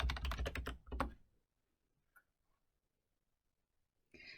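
Typing on a computer keyboard: a quick close burst of key clicks, then a pause and a second short burst, followed by near silence with one faint tick and a brief sound at the end, with no talking.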